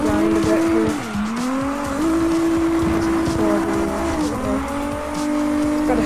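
Car drifting in the CarX Drift Racing video game, with a sustained, loud tire squeal whose pitch slides up and down over a steady engine drone, continuous and close throughout.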